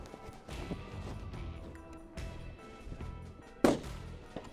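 A precision rifle shot during long-range tactical training rings out as one sharp, loud crack, with the impact on a steel target far off, over a rumbling outdoor background.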